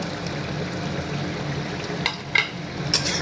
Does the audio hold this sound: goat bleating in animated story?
no